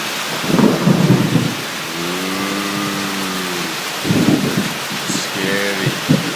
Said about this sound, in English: We're in the tent, watching the storm.